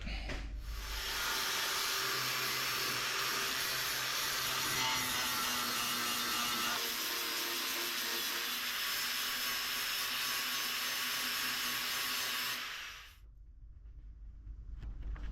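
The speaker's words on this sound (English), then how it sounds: "This is just an undercoat, so I'm gonna give it a quick grind" A grinder works over undercoat on the front corner of a 1969 Pontiac Catalina wagon, a loud, close, continuous whining grind lasting several seconds before cutting off abruptly.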